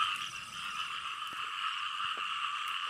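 Frogs croak in a dense, continuous chorus, a steady trilling drone close by with a few scattered clicks and no voices.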